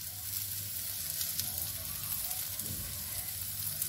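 Okra frying on a flat tawa, a steady close sizzle that holds evenly throughout with a brief scraping stir near the end, no voices.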